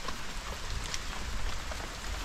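Steady rain pours down without a break, a dense, close hiss of drops hitting the ground and nearby surfaces, with no voices.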